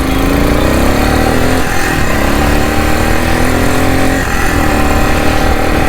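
A Bajaj Pulsar 220 built up as a motocross bike, fitted with a modified aftermarket silencer, runs steadily and loudly up close, its engine note holding and briefly dipping twice in pitch with no talk.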